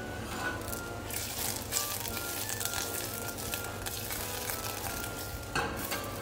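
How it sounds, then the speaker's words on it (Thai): Butter melting in a hot pan as the start of a roux for béchamel sauce, giving a soft, continuous sizzle and crackle with occasional brighter pops throughout. "เราก็จะใส่เนยลงไปนะครับรอให้เนยละลาย"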